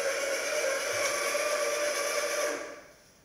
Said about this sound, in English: when the coffee grinder is on,